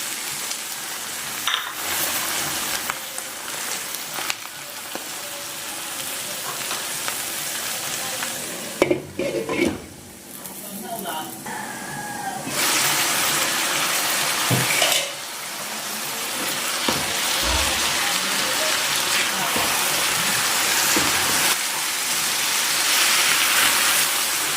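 Pork liver frying and being stirred in a pan for pork igado: a steady loud sizzle with scraping stirs and occasional clatters of a utensil, growing busier toward the end.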